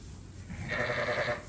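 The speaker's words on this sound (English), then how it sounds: "See, there's some sheep on this side." A single sheep in a lambing pen lets out one short, fairly close bleat that rises midway through and holds for under a second, with no voices.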